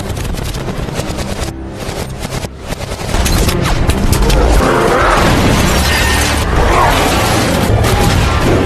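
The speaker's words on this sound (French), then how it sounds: "des tirs vont surgir sur Hulk" Heavy gunfire is aimed at the Hulk in a film scene, with dense rapid bursts and booming impacts under a loud, continuous action soundtrack that intensifies partway through.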